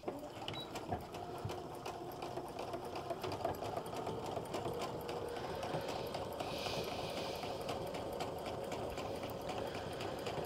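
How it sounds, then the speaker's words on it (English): Close, continuous machine hum and fast needle chatter as a sewing machine runs a zigzag stitch along a seam in pull-on pajama pants, steady throughout with no talking. "as I'm sewing, I'm not watching where the needle is because that's not moving"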